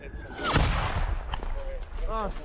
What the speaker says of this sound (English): The men are narrowly missed by an artillery shell.